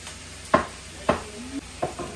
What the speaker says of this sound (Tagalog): ipa-brown lang natin yung karne mga Inday. And then, igisa natin after mag-brown yung karne